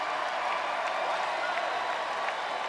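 Basketball arena crowd at an Auburn men's game against Purdue applauding a player as he leaves the court, steady mid-level clapping and crowd noise throughout.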